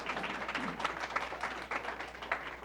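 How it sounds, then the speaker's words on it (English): Steady room applause at a county school board meeting honoring Ravenwood High School, many hands clapping evenly at moderate distance, with no talking over it. "Applause for Ravenwood as well"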